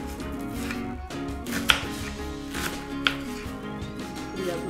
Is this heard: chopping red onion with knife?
yes